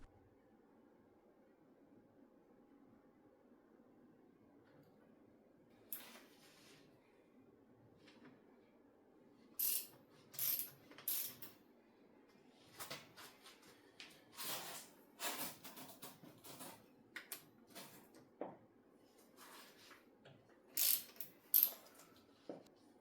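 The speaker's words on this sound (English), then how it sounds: "loosen the axle pinch bolts on each fork leg" Wrench clicks and metallic ratcheting while loosening the front axle pinch bolts on each fork leg of a Ducati Monster 1100, heard as quiet, scattered bursts of clicks over a low background hum.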